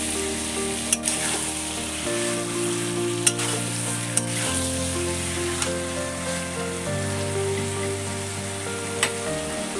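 Chicken curry for a red chicken curry is stirred and fried in a pan, a loud, continuous sizzle broken by a few sharp scraping and clanking strokes of the spoon.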